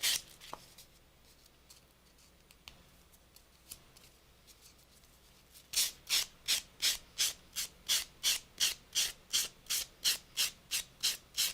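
A coarse sanding sponge is rubbed over paper craft material, first with scattered soft scuffs, then a close rhythmic run of about twenty quick, even back-and-forth scrapes.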